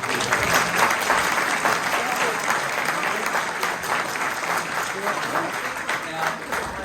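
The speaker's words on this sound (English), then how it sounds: "So how about another round of applause for Paul" Residents at a city council candidates forum clap in a steady, continuous round of applause that holds at an even level throughout, with faint voices mixed underneath.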